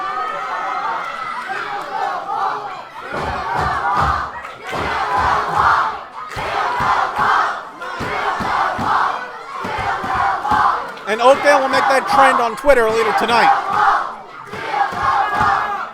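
A wrestling match crowd cheers and shouts loudly and continuously, with rhythmic chanting swells and a commentator talking over the noise.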